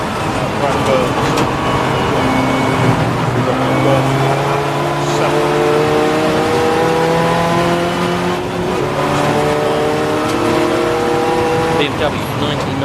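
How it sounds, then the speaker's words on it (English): A BMW and a Honda race cars scream past at the Snetterton enduro, engines revving hard through repeated upshifts and lifts, loud and continuous, while a commentator talks over the action. "There goes Saviani, the BMW, back past the Honda, two pitches"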